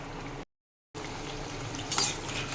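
A utensil scrapes and clatters in a pot as fried onion paste is stirred into chicken korma, with a soft sizzle underneath and a brief silent gap near the start.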